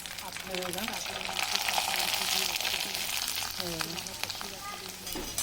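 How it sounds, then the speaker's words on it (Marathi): Sago and potato papad frying in hot oil, a dense close crackling sizzle that stays steady throughout, with faint background voices and tonal chirps over it. "अशा पद्धतीने आपण सगळे पापड तळून घेऊया"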